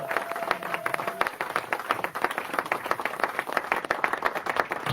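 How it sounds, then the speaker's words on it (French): Church congregation clapping and applauding steadily for a full five seconds, dense overlapping handclaps filling the space with a faint sustained tone early on. "nous acclamons fortement le Seigneur"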